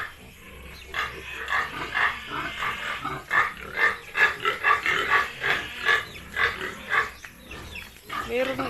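Pigs grunting and squealing close by, a busy run of overlapping snorts and calls that rises and falls throughout.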